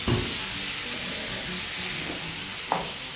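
Pork frying in a hot, smoking pan gives a loud, steady sizzle and hiss, close up, with a couple of brief clatters as the meat goes in and shifts, no talking.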